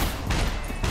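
A rapid burst of gunfire in the survival video game Scum crackles loudly and continuously for under a second, dense and harsh.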